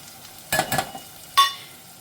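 Chili masala, turmeric and salt are stirred into a dry fish (Bombay duck) and potato mixture in a hot pan, giving two short, close bursts of sizzling and scraping separated by quiet.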